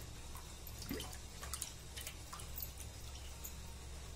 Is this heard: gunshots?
no